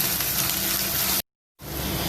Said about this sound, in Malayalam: ഇനി നമ്മുടെ വെളുത്തുള്ളി ഇഞ്ചിയും പേസ്റ്റ് ഒന്ന് ബ്രൗൺ കളറായി വരുന്നവരെ നമുക്കൊന്ന് വഴറ്റിയെടുക്കാം